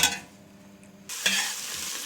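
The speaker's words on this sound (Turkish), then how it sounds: "Şimdi soğanlarımızın kavrulmasını bekleyeceğiz arkadaşlar." A soft sizzle in a pan, then a louder burst of frying as onions are stirred while sautéing, hissing continuously afterward.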